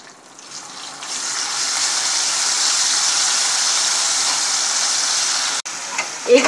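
Ginger garlic paste sautés in hot oil with ajwain and hing for arbi sabzi, making a loud, steady hiss that rises quickly, holds, then breaks off briefly with a stirring clatter near the end.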